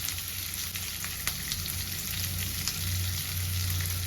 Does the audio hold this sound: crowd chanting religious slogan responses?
no